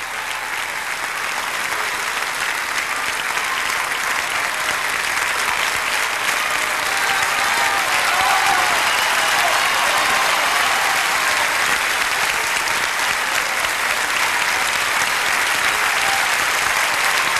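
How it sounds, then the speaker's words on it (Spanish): A large concert audience gives loud, sustained applause for the dance ensemble, with dense clapping from many hands that holds steady for well over fifteen seconds, unbroken by speech. "Un aplauso fuerte para ellos, por favor"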